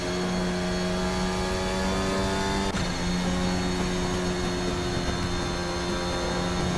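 Formula Alpha 2022 race car in a sim racing game, its engine holding a loud steady multi-toned drone with a brief sharp click partway through and continuing strongly to the end.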